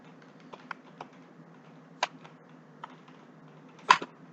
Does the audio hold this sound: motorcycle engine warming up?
no